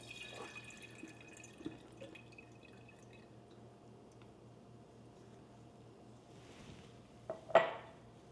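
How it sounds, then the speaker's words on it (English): Brine from a jar of pickled Brussels sprouts drips and trickles in a quiet kitchen, with light clinks of dishes, and a short splash and clatter near the end. "You just want to drain out some of the brine."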